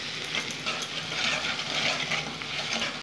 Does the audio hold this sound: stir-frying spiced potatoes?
yes